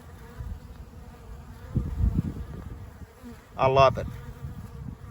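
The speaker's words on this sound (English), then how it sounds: "I love to see the bees working like this." Bees buzzing at a log beehive, a steady low hum with louder bursts as insects fly close past, including one sharp near buzz; a voice speaks briefly.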